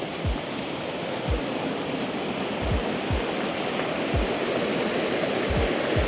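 Water flowing and rushing beneath a rock ledge at Sandcut Beach on Vancouver Island, a steady, loud, broadband wash with low thumps every second or so, close by and with no voices.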